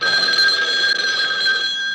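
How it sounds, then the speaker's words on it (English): A telephone bell rings continuously, loud and close, a steady electric trill with no voices over it. "the phone rang"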